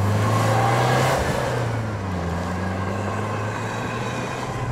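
A Shelby Dodge Omni GLHS from the 1980s revs and accelerates close by, its engine tone rising steadily and then settling into a sustained drone as it pulls through the gear, loud and alone without talk.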